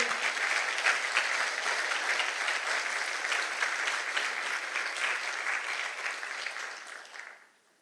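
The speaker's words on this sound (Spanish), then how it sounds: "Denle un aplauso fuerte a Él" Loud, sustained applause from a large audience claps steadily for several seconds, then fades out quickly near the end.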